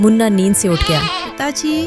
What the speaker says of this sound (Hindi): आंगन में बंधा बकरा अचानक जोर जोर से मिमियाने लगा